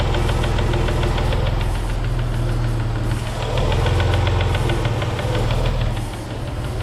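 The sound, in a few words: car engine revving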